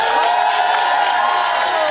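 Church congregation cheering and clapping, a dense, loud crowd roar with whoops and shouts that holds steady through the brief moment.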